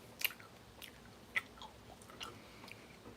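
Quiet, close chewing of something crunchy, with a few sharp crackling bites spaced out over soft mouth sounds.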